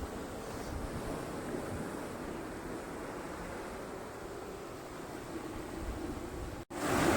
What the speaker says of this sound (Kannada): ಈ ಅಲೆಗಳೇ ನೋಡಿ ಎಷ್ಟು ಚಲೋ ಇದೆ